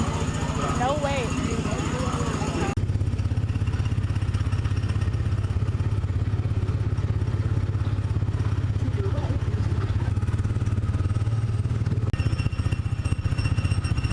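Go-kart cars on the Tomorrowland Speedway ride at Disney's Magic Kingdom drone with a steady, rumbling engine noise, loud and close, with people talking over it.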